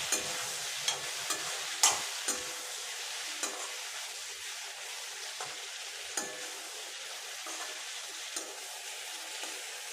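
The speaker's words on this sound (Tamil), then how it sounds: "இப்போ இதை ஒரு 3-4 நிமிஷத்துக்கு நல்லா வதக்கி விட்டுடுங்க." Okra with turmeric being sautéed in a pan makes a soft steady sizzle up close, broken by sharp scrapes and taps of a spatula at irregular intervals, with no voices.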